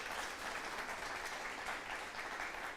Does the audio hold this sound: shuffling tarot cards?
no